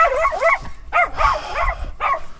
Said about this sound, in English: They always bark at that dog right there.